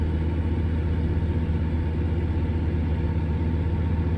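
Truck engine in American Truck Simulator, a steady mid-to-low rumbling drone holding at a constant level throughout, with no clear rise in revs.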